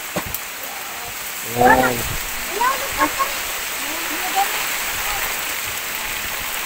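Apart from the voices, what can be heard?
heavy rain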